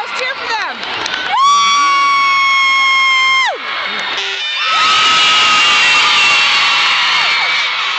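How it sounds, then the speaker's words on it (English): Girls in a crowd at a cheerleading event, shrieking and cheering for the cheer dads; a long sustained scream, then a brief dip, then another loud wave of cheering and whoops that carries to the end. "Come on, girls, cheer for them."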